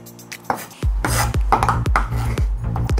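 A knife slices through a white onion on a cutting board, close and crisp, with a series of sharp chopping strokes in an uneven rhythm after a few quieter preparatory taps.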